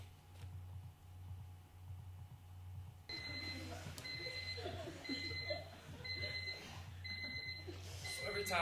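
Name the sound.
alarm clock going off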